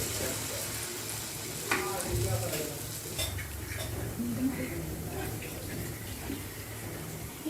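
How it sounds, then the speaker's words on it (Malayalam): Bread sticks dipped in batter fry in hot oil for a pokkavada snack, giving a steady close sizzle and crackle with occasional stirring and utensil clinks throughout. "ബ്രെഡ് ഓരോന്നായി മാവിൽ മുക്കിയെടുത്ത് എണ്ണയിലിട്ട് ഫ്രൈ ചെയ്തെടുക്കാം."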